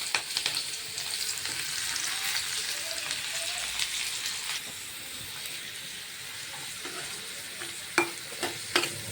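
Onions and chillies sizzle steadily in a pan for a spiced okra (bhinda) dish, a broad crackling hiss throughout with occasional soft clinks and stirring scrapes near the end.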